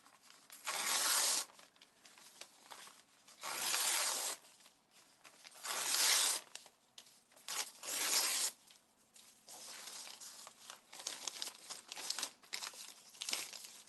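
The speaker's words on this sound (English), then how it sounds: "But you want to take your paper and then just tear it into strips." Paper torn into strips by hand for a textured art technique, a series of rough ripping bursts with quieter crinkling in between, close and with no talk.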